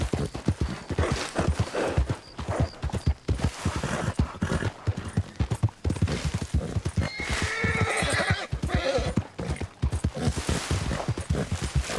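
Horse in Red Dead Redemption 2 neighing and whinnying with steady clip-clop hoofbeats at a gallop, loud and close throughout, with dense game sound around it.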